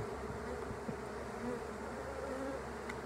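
Honeybees buzz in a hive being worked during a trap-out, forming a continuous low, dense hum with no voices.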